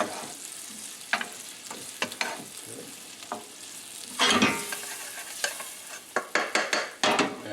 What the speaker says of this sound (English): You want to get the onions cooked in and the garlic.